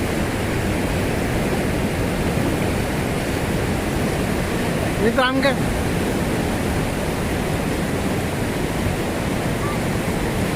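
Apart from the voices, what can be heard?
flooded Saga Vadi river rushing water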